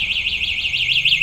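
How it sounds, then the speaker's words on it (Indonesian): An ECGO5 electric scooter's alarm sounds loud and close, a shrill warbling tone sweeping up and down about every fifth of a second with nothing else heard. "Untuk alarm, sistem alarmnya kita pakai gembok yang terkunci."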